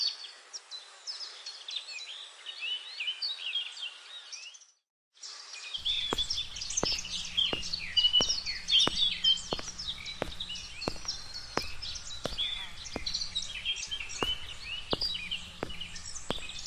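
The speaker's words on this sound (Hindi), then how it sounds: "हल्की हवा और पंछियों की आवाज, चहचहाहट" Birds chirping in a sunny forest with a light breeze, a dense, faint chorus of high twittering calls throughout, briefly dropping out before resuming over a steady run of regular soft ticking pulses.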